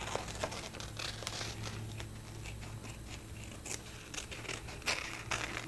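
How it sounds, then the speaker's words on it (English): Scissors snip through tear-away embroidery stabilizer close by, a series of faint crisp cuts and papery crinkles scattered irregularly over low background hum, with no talking. "So all I do is I just take the scissor and then I just go ahead and I cut it."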